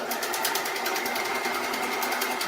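A sewing machine stitches a fabric strap with Gutermann all-purpose thread in a steady, fast, close whirring hum. The needle taps rhythmically and no one talks over it.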